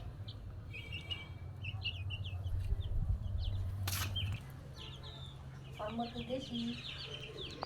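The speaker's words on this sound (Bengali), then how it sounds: "এদিকে আমরা নিয়েছি এগুলা পোলট্রি মুরগির বাচ্চা।" Poultry chicks peep in a series of high, bright chirps, mixed with clucking from a hen, while a person speaks nearby.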